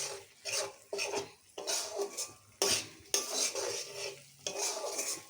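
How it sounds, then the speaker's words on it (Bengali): Spice paste fries in oil in a pan while a metal spoon scrapes and stirs it in repeated rhythmic strokes, each scrape punctuated by a short pause, over a soft, quiet sizzle. "নিয়ে তারপরে মশলাটা ভালো করে কষাচ্ছি।"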